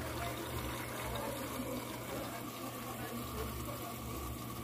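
An Electrolux washing machine fills with water, a steady strong rushing and splashing flow that continues evenly throughout at moderate level, with no voices over it.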